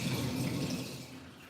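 Tap water runs steadily from a kitchen faucet while cilantro is rinsed, a continuous broadband splash that is loudest at first and eases slightly toward the end, with no talking.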